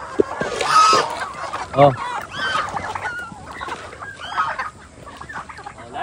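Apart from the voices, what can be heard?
geese and chickens clucking while eating yellow corn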